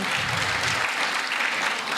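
A crowd at a primary school graduation ceremony applauds steadily, a dense wash of clapping that stays even in volume for the whole stretch.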